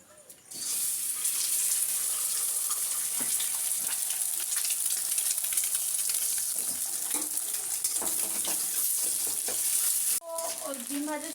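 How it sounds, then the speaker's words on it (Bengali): An egg fries in hot oil in a wok, giving a steady, loud sizzle that runs almost unbroken before cutting off near the end, followed by a few clinks. "সর্বপ্রথমে আমি ডিমটা একটু ভেজে নেব"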